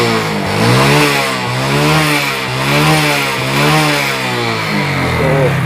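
A Hero Glamour motorcycle, about seven or eight years old with white exhaust smoke and a rough sound, idling close by with a loud, throbbing engine that rises and falls in repeated gentle revs.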